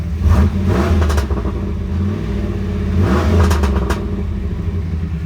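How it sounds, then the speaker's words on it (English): A 1995 Chevrolet Camaro Z28 V8 exhaust revs up repeatedly with a deep rumbling idle between bursts, loud and close, with no talking. "I'll let you listen to the exhaust here."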